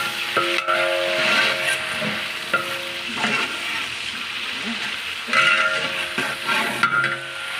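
Onions frying with 15 kg of chicken, cinnamon, cloves, oil and ghee in a big pot, a steady close sizzle broken by repeated scraping and stirring clatter, no voices.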